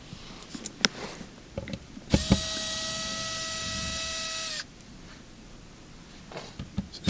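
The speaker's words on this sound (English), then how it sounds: "I'm going to be removing these screws that are holding the filter assembly in position." A powered screwdriver backs out the screws holding the filter assembly of a Samsung dishwasher, giving one steady, loud whirring buzz for about two and a half seconds, framed by a few faint clicks and handling knocks.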